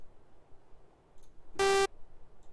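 A single short synthesized blip made in Harmor as a sidechain trigger sounds once, a bright buzzy tone lasting about a quarter second over a faint background hiss.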